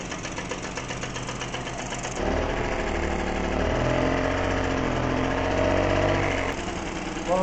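A Solex 5000 moped's small single-cylinder engine, freshly started after repair, runs steadily close by with a buzzing, rattly idle that steps up in pitch and volume partway through, then settles again.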